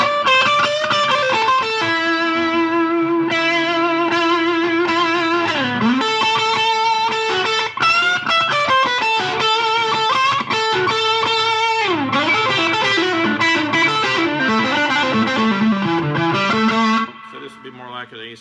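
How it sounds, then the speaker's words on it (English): Distorted, gritty guitar chords strummed continuously on a six-string cigar box guitar at high volume, with heavy overdriven crunch and sustained riffing before a brief quieter moment at the end. "more distortion to it."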